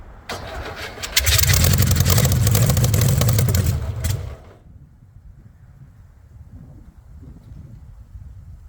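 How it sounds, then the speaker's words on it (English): A VW-engined rat rod cranks and catches on a squirt of fuel, running loud and rough for about three seconds with rattly clatter before cutting out to a low, quiet rumble. "let me squirt it and it fires right up"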